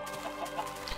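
A brief, quiet bit of Minecraft chicken clucking, with soft scattered clucks over a steady low hum of game audio.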